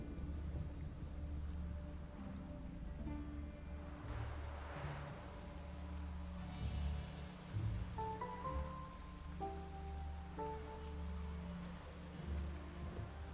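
A thunderstorm in The Witcher 3: Wild Hunt brings steady rain hissing over the ground, with low rolling thunder rumbling through; the game's music tones drift faintly beneath the downpour and no one speaks.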